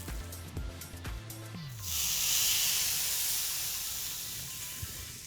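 Fish laid on a heavily greased grill bursts into a loud, steady sizzling hiss that swells after a couple of seconds of clanking and then slowly eases, close and alone.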